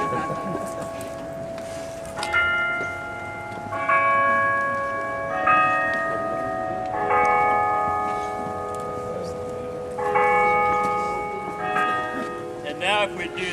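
A church bell tolls in a slow series of ringing strikes at an outdoor rally, each stroke sustaining and overlapping the next, with crowd murmur and a voice underneath.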